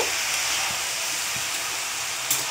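Mutton chowmein noodles fry and get stirred in a hot pan with vegetables, giving a steady, loud sizzling hiss throughout with a few faint scrapes.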